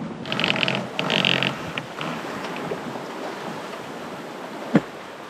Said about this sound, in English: It is super gusty today.